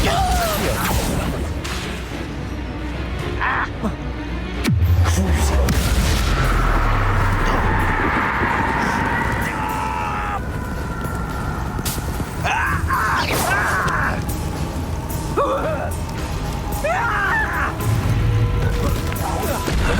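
Bombardo spell explosions from Hogwarts Legacy, played on Nintendo Switch: a sudden heavy blast hits about five seconds in, followed by rumbling impacts and scattered crashes over a busy in-game soundscape with speech mixed in.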